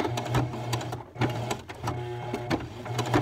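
A sewing machine stitching a sweater, its motor buzzing in steady close bursts with brief pauses and rhythmic needle thumps, without any talking.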